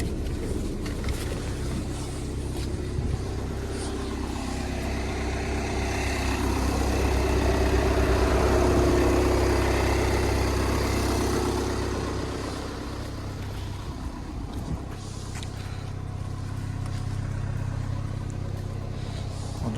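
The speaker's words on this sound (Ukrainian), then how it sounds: "двигун вже прогрітий, працює гарно, рівненько" A warmed-up Volkswagen Passat B7 2.0 TDI diesel engine idles steadily and evenly, a continuous low rumble that swells slightly in the middle before settling back to a smooth hum.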